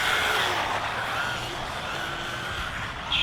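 An MJX C3 WRC Citroen RC rally car drives on its first run, giving a continuous high electric motor whine with faint tire scrubbing that rises slightly near the end, heard fairly close with no talking.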